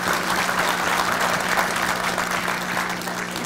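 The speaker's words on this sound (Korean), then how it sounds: "박수 한번 보내주시죠" Steady audience applause at a Korean talk concert, dense and sustained throughout at an even, fairly loud level with no pauses.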